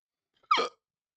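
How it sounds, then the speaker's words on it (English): A single sharp hiccup bursts out close to the microphone, a short voiced gulp with silence before and after. "I can't get rid of these fucking hiccups."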